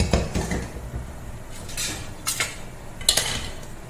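A spoon clatters and scrapes against a pan while chicken is stirred into a non-veg upma, several sharp metallic knocks between softer scraping, close by with no talk.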